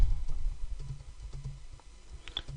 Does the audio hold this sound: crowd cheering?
no